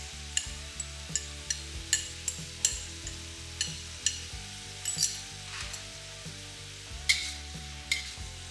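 Miso pork stir fry with cabbage and carrots sizzles steadily in a pan, broken by repeated scraping and knocking as it is mixed, with sharp clinks of a utensil against the pan at irregular intervals; no voices.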